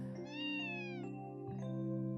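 A cat meows in the Trails to Azure video game, with two drawn-out rising and falling cries, the second following a short pause, clear and close over a steady tonal game backdrop.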